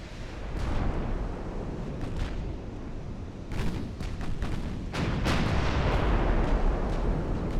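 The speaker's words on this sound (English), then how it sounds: "Flash fire and or ammo detonation." A warship suffers a flash fire and ammunition detonation during a naval battle in Ultimate Admiral Dreadnoughts: heavy booming blasts and rumbling explosions, with several sharp bursts near the middle and end over a continuous low roar.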